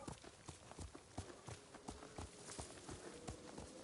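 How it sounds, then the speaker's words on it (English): Horse hooves clip-clopping at a steady trot while riding in Ghost of Tsushima, a rhythmic series of close, distinct hoofbeats over a faint background. "let's ride our horse"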